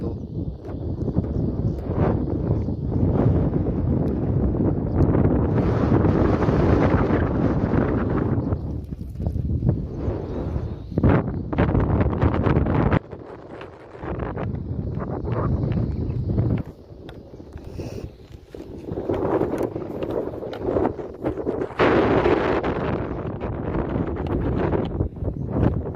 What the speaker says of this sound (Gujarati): ચકલીનો અવાજ આવી રહ્યો અને હવાનો.